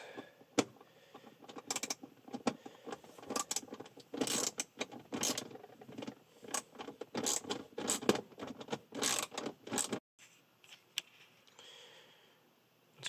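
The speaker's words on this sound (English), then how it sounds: "Your 7mm socket wrench for these bolts." A 7mm socket wrench loosening bolts on a 2006 Ford Explorer dash, with quiet ratcheting clicks and scraping mechanical bursts in irregular clusters, close but faint.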